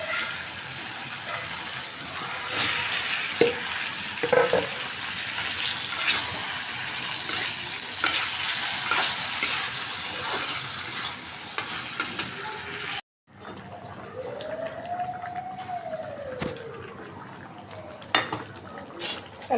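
Curry with roasted spices frying and being stirred in a pan, a steady crackling sizzle with intermittent scraping and clinks of the spoon, followed after a short break by quieter kitchen handling noises.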